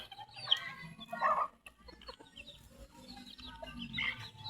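Roosters cluck softly and intermittently, a few faint bursts of calls close by with quiet farmyard background.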